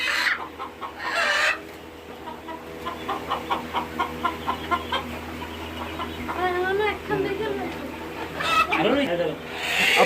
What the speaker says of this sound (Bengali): এই দেখেন আমাদের ছোট মস্তানও